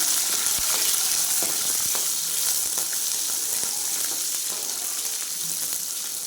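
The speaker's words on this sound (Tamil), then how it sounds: "சின்ன வெங்காயம் வெள்ளைப்பூடு சேர்த்து நல்லா வதக்கிக்கணும்." Shallots and garlic sautéing in hot oil for a fish curry give a steady, close sizzle throughout, with occasional soft stirring clicks and no voices.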